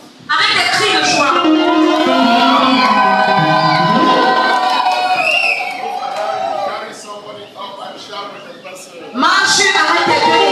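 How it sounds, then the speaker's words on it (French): A church congregation shouts and cheers with joy, a loud crowd roar of overlapping voices that dips midway before swelling again at the end. "Avec des cris de joie."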